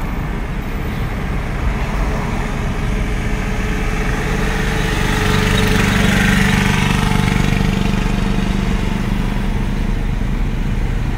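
Car engine running steadily in gear for a driving lesson, its drone swelling gradually as the accelerator is eased down, constant and close inside the car.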